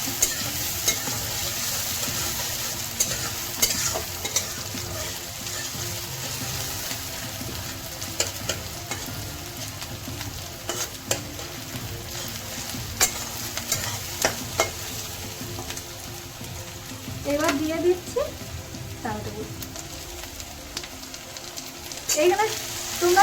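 Onion and chopped green chillies frying in a pan for a masoor dal egg tadka, a continuous sizzle with repeated scraping stirs and clanks throughout, a voice briefly heard near the end.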